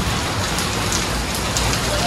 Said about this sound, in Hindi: बारिश ही आ जाती है।